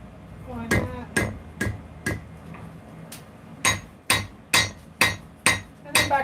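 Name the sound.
hammer tapping while forging a knife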